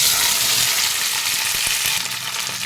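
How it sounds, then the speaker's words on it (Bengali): Cut flat beans poured into hot oil in a pan for a Bengali mustard-paste recipe, a loud, close, continuous hissing sizzle with a few faint clinks and stirring scrapes. "তেল গরম হয়ে গেছে এখানে আমি এবার আমি ওই কেটে রাখা সিমগুলো দিয়ে দেব"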